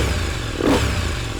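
A KTM 890 Duke R with a modified, louder-than-stock setup revs up close by, its loud, rough engine note swelling briefly mid-blip over a steady throbbing idle, with no talking.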